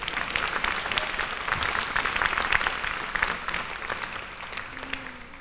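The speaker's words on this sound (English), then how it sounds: "He deserves a round of applause just for that." Sustained applause from a large commencement audience at a college graduation ceremony, dense and steady clapping throughout with a slight swell in the middle, no talking over it.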